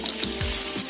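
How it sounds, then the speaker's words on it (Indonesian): Garlic and shallots sauté in hot oil in a frying pan for a tempeh seasoning paste, giving a steady, close, bright sizzle with occasional soft stirring thumps and no talking. "Kemudian saya mau menumis bawang putih dan bawang merah"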